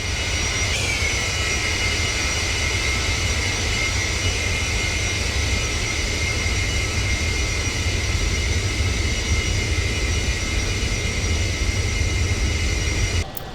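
Avro Vulcan jet engines in the X-Plane 11 flight simulator roar as a constant dense broadband drone with a steady high whine layered on top, unbroken and close, cutting off abruptly at the very end.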